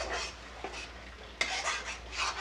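Grated tomato is stirred into a cooking pan with a spoon, producing soft, intermittent scraping and wet rubbing strokes, quiet and close, with no talking.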